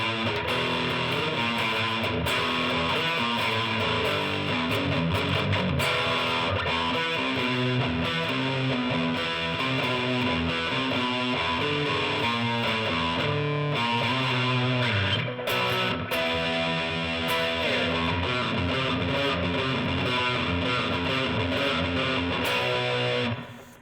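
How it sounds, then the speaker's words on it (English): Heavily distorted electric guitar plays dense, sustained riffs, loud and continuous throughout with a thick, saturated tone. "high gain, and this is where you get a little bit more of that metal sound."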